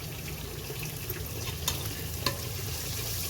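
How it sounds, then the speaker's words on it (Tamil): Masala sautéing in hot oil for vegetable biryani, a steady, fairly loud frying hiss throughout, with a couple of faint utensil taps and no one talking. "மசாலா போட்டு நல்லா வதக்கி விட்டுட்டு"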